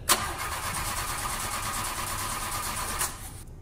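An old car engine cranks and catches, then runs roughly at a steady mid-pitched idle for a few seconds, close and fairly loud, with no talking.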